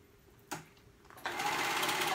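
A sewing machine stitching a band onto a sleeve starts with a short click, pauses, then runs into a steady, close whir of stitching.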